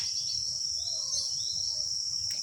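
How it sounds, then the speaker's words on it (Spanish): A cricket chirps in a steady, shrill, continuous trill, close and prominent over a low background rumble, with no voices present. "Grillo"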